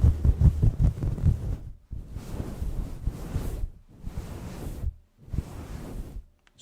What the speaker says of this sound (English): spent a lot of time petting the mic, like so, because it's a very comforting sound